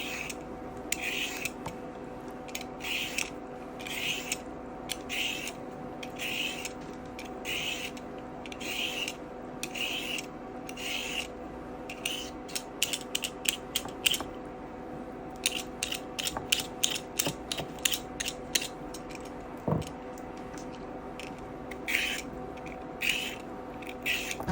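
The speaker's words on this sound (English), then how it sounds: "Here I'm peeling the carrots." Carrots are peeled with a peeler in repeated short rasping strokes, quiet and close, at a steady rhythm that speeds up toward the end, with no talk.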